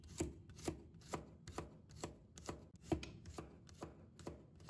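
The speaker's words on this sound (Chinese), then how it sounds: "接下来再准备一些大蒜，把它切成薄片" Rhythmic knife chopping garlic into thin slices on a cutting board, about ten quick, evenly spaced strokes, close and clear with no talking.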